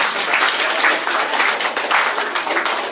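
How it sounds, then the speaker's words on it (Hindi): A congregation applauds at a Christian wedding ceremony in Ranchi, Jharkhand, with loud, close, sustained clapping from many people, a dense rattling patter that never pauses. "ताली बजाकर परमेश्वर का धन्यवाद करें।"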